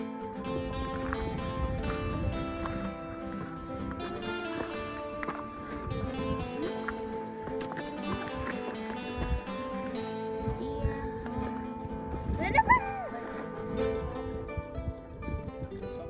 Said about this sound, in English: It sounds like they're working with horses,